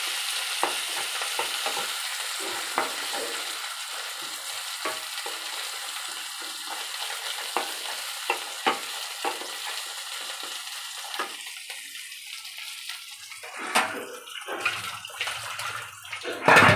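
Tomatoes added to browned onions in a pan, sizzling steadily with scattered scraping stirs, close, while the frying hiss eases then flares again near the end.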